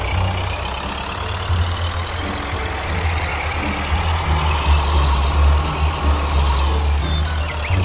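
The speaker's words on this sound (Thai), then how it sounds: "รถไถเก่าๆครับลากพ่วงครับ" Old tractor pulling a trailer in Farming Simulator, its engine a loud, steady low rumble that holds throughout with no talking.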